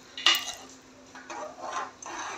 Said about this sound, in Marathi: मिश्रण परत एकदा ढवळून घेणार आहे